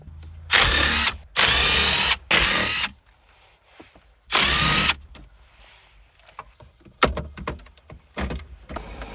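A power drill backs out Phillips screws from the climate control panel of a 2000-2004 Nissan Pathfinder, four loud whirring bursts of about half a second each, followed by quieter clicks and handling noises.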